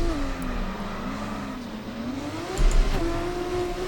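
A grid of F2 cars launching from the start of a race at Brazil in the F1 24 video game, with a steady engine drone rising in pitch under acceleration and a brief louder burst near the end, no talk.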